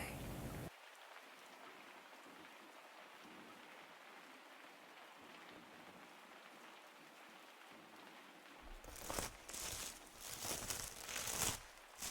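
Rain falling in a forest, a quiet, even hiss of drops on foliage, joined toward the end by louder close-up crinkling and rustling bursts.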